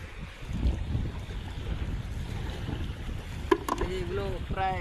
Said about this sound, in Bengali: দেখো নদীতে কীভাবে ঢেউ এসছে